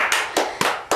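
Sharp, close hand claps sound on a film set, about four crisp slaps in quick, slightly uneven succession.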